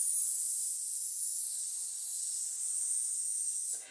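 A long, steady hiss held for nearly four seconds and then cut off abruptly, made by voices imitating a snake during a vocal warm-up.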